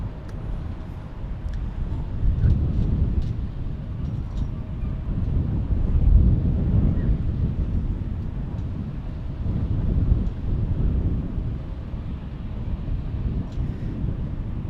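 Summer wind at an outdoor plane-spotting spot at DFW International Airport, battering the microphone with a continuous loud low rumble that swells and eases in gusts.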